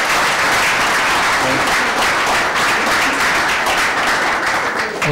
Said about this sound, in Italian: qui c'è un applauso però